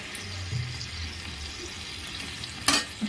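Capsicum, chopped tomato and thin-sliced ginger frying in a pan for chicken stew, a soft continuous sizzle with light stirring scrapes and one brief sharper clatter near the end.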